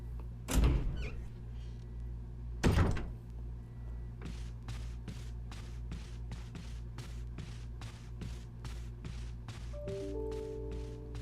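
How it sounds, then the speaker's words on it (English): A door opens in the Resident Evil remake video game, with two loud heavy thuds early on, then a steady series of evenly spaced soft mechanical clicks over a low ambient drone. "We're going through this door."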